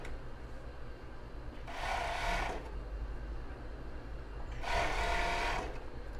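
A sewing machine stitches stretched elastic onto the base of a cross-base bra in two short, steady bursts separated by a quiet pause, fairly close and with no talking.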